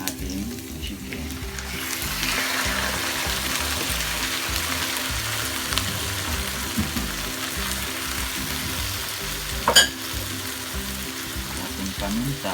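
Chicken pieces hit a pan of lightly browned sautéed onions and fry with a steady, close sizzle that continues throughout, with one brief clatter near the end.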